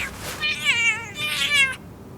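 A cat meows loudly and close up in two drawn-out, wavering cries that rise and fall, followed by a quiet pause.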